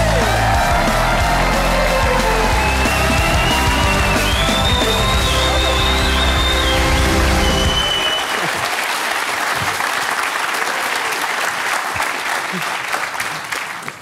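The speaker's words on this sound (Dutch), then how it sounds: "mag ik een daverend applaus voor Jeroen Snelder" A TV studio audience on a Dutch late-night talk show breaks into loud, sustained applause with whoops and cheers, starting over band music that cuts out partway, the clapping carrying on alone until the end.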